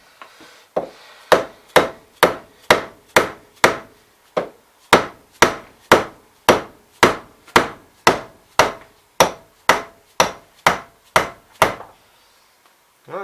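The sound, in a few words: dead blow hammer striking a hydraulic cylinder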